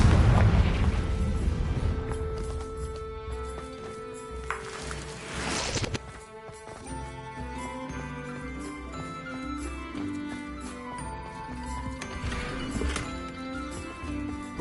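Repeated Confringo fire spell blasts in a Harry Potter video game, booming bursts over continuous game music and clattering effects, with no talk.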